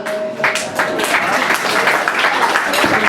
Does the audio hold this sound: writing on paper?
no